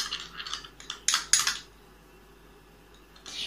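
A spoon stirs rice flour face pack paste in a small bowl, giving a few light, close scrapes and clinks in short bursts before falling quiet, then one more soft scrape.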